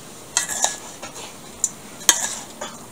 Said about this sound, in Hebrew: מערבבים את הכל עם כף גדולה ככה שזה לא ירסק את הכל